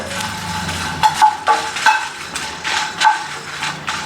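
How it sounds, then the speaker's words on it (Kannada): Masala for a smoky chicken ghee roast frying in a hot pan, with a steady close sizzle punctuated by several sharp clinks and scrapes of a utensil stirring against the metal. "ಈಗ ಚೆನ್ನಾಗಿ ಮಸಾಲೆ ಎಲ್ಲ ಗಮ್ ಅಂತೇಳಿ ಫ್ರೈ ಆಗ್ತಾಯಿದೆ"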